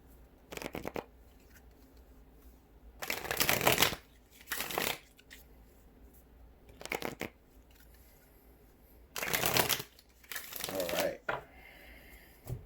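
Tarot cards are shuffled in several quick riffling bursts, close and crisp, with quiet pauses between each shuffle.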